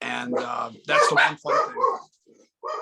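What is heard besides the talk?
dog barking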